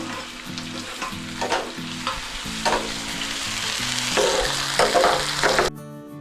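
Tomato fries with onions and whole spices in a pan, a steady sizzle broken by repeated scraping stirs and clattering strokes before it stops abruptly; no speech.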